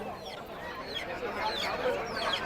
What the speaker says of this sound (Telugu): ఈ పుంజు చూడండి